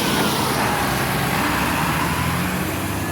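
Low-floor city bus engine running steadily up close, a continuous loud rumble with broadband noise and no talk over it.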